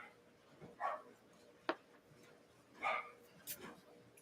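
A few short dog barks and yips at a distance, scattered irregularly, faint beneath a quiet room with some talking.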